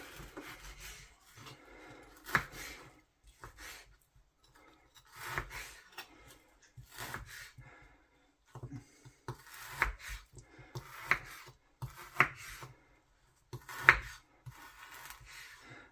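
A knife slicing slightly frozen beef on a board for a steak and kidney pie, with soft, irregular scraping cuts and occasional sharper knocks in a quiet kitchen.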